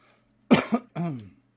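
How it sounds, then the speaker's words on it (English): Two short, harsh coughs close by, the first a quick double burst and the second a longer, rougher hack, with quiet between them. "Sorry, got the coughs tonight."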